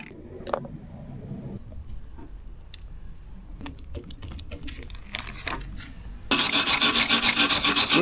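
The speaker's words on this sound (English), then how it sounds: "Cleaning the calibers before we mount new pins." Mercedes brake calipers get scrubbed clean before new guide pins go in, a close rasping rub with scattered knocks and clicks, ending in a loud, steady spray-like hiss.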